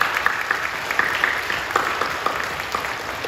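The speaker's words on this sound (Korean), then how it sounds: "박수를 격려해 주시죠." A church congregation applauds during a worship service, a steady wash of many hands clapping at moderate volume with no talk over it.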